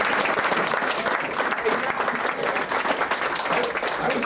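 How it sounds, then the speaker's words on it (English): Sustained applause from a gathered family at a reunion in Traverse City, steady dense clapping throughout with some murmured voices mixed in. "And I'd like to have applause for Lori."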